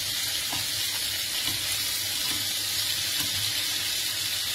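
Large prawns frying in a pan for a prawn breyani while being turned over, a constant loud sizzle with faint scraping and shifting as the prawns are moved.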